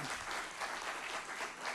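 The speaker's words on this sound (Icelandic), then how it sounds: "So hvernig væri að gefa þeim gott klapp?" Church audience applauding a visiting group, a dense, steady clapping that fills the room without pause, close and fairly loud.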